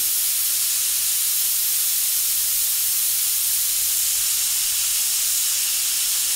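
Airbrush spraying an even coat of candy paint in micro airbrushing, a steady, loud, unbroken hiss of air close by, lasting throughout with no talking.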